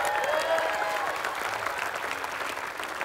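A studio audience at a dating show breaks into sustained applause, a dense wash of many hands clapping at steady loudness for several seconds, with faint voices mixed in.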